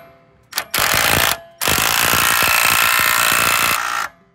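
A ratchet cranks down on a wheel lug with a spacer of washers, giving two bursts of rapid, loud metallic clicking close up, a short one then a longer steady run, with no talk.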